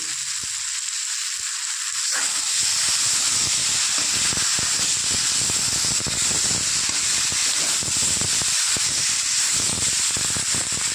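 Spiced rohu fish curry with beans, potato and lentil dumplings sautéing in a pan, a loud dense hissing sizzle that swells up after a quieter start and stays steady and close.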